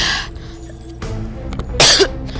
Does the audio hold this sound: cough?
yes